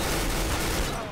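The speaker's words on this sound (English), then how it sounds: "Because I've got this huge machine gun that's a beast." A machine gun in Counter-Strike: Global Offensive fires a dense, unbroken burst of rapid shots that stays loud throughout and tails off slightly at the very end.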